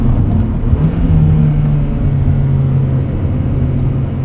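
A 1999 Honda Prelude Type SH with a 5-speed manual rumbles from inside the cabin while driving, engine tone rising and holding as it revs, steady and fairly loud with no talk.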